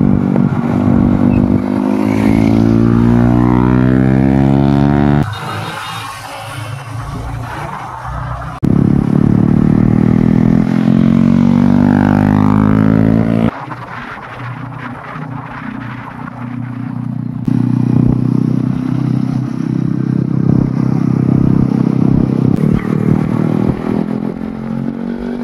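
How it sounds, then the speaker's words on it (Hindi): Motorcycle fitted with an Akrapovic exhaust riding across a bridge in Assam, its engine revving loud and close in repeated rising pulls with lower cruising stretches between, no talk over it. "ये एक्रोपोविक का साउंड है ना, बहुत ज्यादा दिल पे लगती है भाई साहब"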